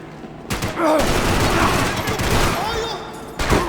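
Loud, sustained gunfire from the video game Max Payne 3: dense rapid bursts that stop briefly and then come back, with a voice heard faintly in the mix.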